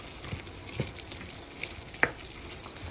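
Chicken breast sautéing with tomato paste in a pan, a steady gentle sizzle with a few scrapes and clicks of stirring, including one sharper clink near the end, no talking.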